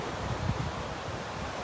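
Steady habagat monsoon wind blows across Boracay beach, a dense, continuous roar buffeting the microphone with no pause.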